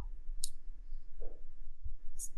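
Computer mouse clicks while working in Photoshop during an online lesson: a few sharp, quiet clicks spaced apart over a soft low background hum.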